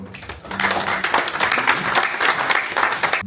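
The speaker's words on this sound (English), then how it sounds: "Let's give an applause to Ambassador." A seated audience at the inauguration of the Sierra Leone Diaspora Advisory Committee in Brussels applauds the ambassador: a brief pause, then loud, dense clapping from many hands that holds steady for nearly three seconds.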